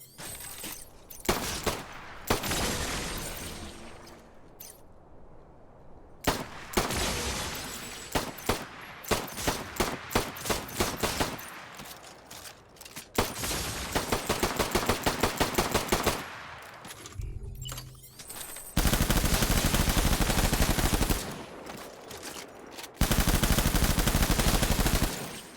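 Gunfire in the video game Death Stranding, with bursts of rapid automatic shots and single pistol-like cracks spread across the stretch, some loud sustained volleys near the end, with no talking.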